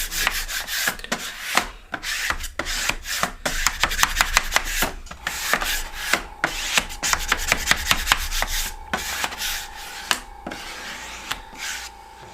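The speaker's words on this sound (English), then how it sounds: "So I take my squeegee." A squeegee rubs repeatedly over transfer tape pressed onto a surface during airbrush stencil work, giving a quick run of close, scratchy strokes in irregular bursts, with a faint steady hum behind them.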